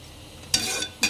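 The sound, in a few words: stirring vermicelli payasa in a pan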